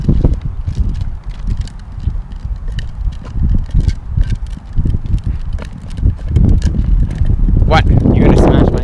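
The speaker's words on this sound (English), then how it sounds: "It's very windy right now." Strong gusts buffet the microphone outdoors, a heavy low rumbling roar that swells and surges, loudest near the end, while a person talks underneath.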